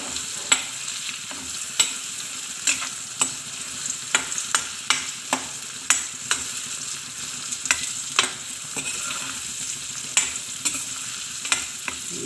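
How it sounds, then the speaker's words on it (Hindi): Stuffed okra (bharva bhindi) is stirred in a frying pan, with a spoon scraping and knocking in a steady, irregular series of close clicks over a soft, continuous sizzle. "अब इन्हें धीरे से इस तरह से चलाकर"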